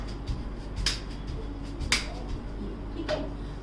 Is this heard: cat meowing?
no